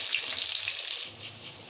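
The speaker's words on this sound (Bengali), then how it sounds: "5-7 মিনিট এটাকে ফ্রাই করে নেব হালকা আঁচের মধ্যে" Potatoes and pointed gourd fry gently in a pan over low heat, giving a soft, even sizzle with crackle for a short moment.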